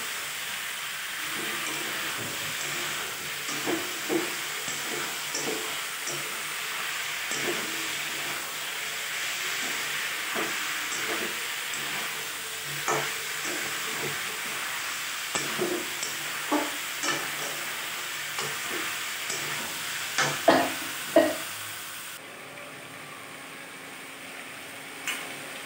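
Chicken stew with beans, tomato and onion frying in a pan, a steady sizzle with repeated scraping stirs and utensil knocks, close, ending in quieter hiss.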